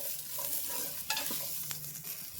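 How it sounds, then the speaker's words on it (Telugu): Onions sizzle softly in a pan on the stove as they fry toward light golden brown, with occasional scraping stirs of a utensil; quiet and close, no talking. "ఇట్లా లైట్ గోల్డెన్ బ్రౌన్ కలర్ వచ్చేంత వరకు ఫ్రై చేసుకోండి."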